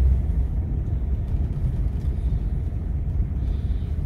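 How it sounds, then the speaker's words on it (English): A 1957 Ford Thunderbird cruising with a new, quieter exhaust system, giving a steady low engine rumble heard from inside the car, continuous and even with no talking. "we're taking a little spin here in the 57 Thunderbird"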